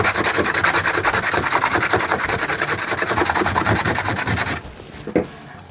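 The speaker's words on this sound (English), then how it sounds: "it's time to take a bit of sandpaper." Sandpaper rubbed briskly back and forth along the sharp edges of a planetary rover chassis, a steady rapid rasping close up that stops near the end, followed by a single light knock.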